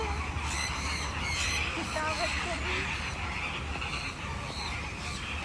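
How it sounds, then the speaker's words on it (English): Birds at Bird Park Singapore, including flamingos, squawking and honking in a busy chorus under a constant noisy outdoor crowd, with repeated harsh calls spread through the clip. "look at those beautiful birds over there"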